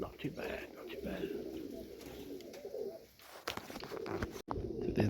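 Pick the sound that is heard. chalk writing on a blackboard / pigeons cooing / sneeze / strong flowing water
pigeons cooing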